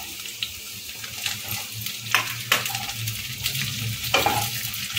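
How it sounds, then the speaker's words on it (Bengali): Chopped onion going into a pan of frying garlic, ginger and green chilli, a steady close sizzle with sharp clatters of stirring and scraping every second or so. "এবার এর মধ্যে দিয়ে দেবো কেটে রাখা পেঁয়াজটা।"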